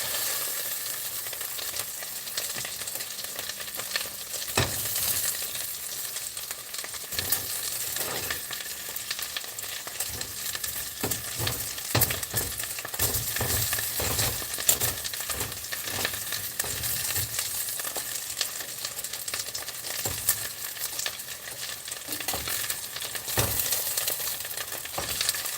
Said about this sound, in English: I almost need a spatula to scrape these off of the pan